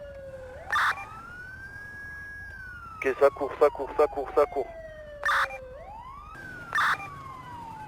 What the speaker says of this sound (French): On met les sirènes, les grands phares.